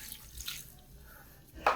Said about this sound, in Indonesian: Kemudian kita siram lagi